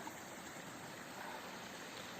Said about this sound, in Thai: นี่ก็จะเป็น น้ำไหลเล็ก ๆ น้ำตก น้ำตกน้อย ๆทันน้ำนะคะ